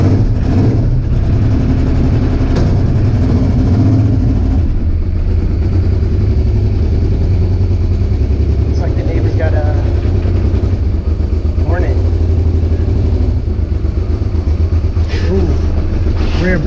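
A 1995 Honda Africa Twin motorcycle engine running loud and close, a steady low rumble with a brief rev change early on, while a rider talks over it.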